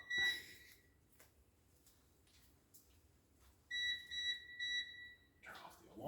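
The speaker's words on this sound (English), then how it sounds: "Turn off the alarm." A smoke alarm goes off in a kitchen where coffee is being made with a French press, giving loud shrill repeating beeps in a quick burst near the end, after quieter sounds.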